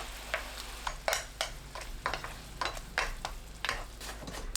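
Spiced sauce bubbling in a hot frying pan over tofu as the pieces are turned, a steady sizzle broken by a series of sharp scraping and clattering strokes from a utensil, close and fairly loud, with no talking.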